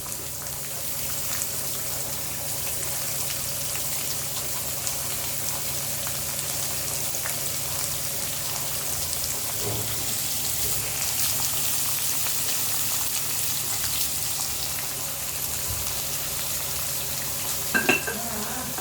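Curry leaves and green chilies frying in hot oil give a steady, close crackling sizzle that runs the whole time, with a few sharper pops and spatters near the end and no talking.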